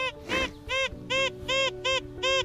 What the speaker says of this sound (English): That's the sound of gold.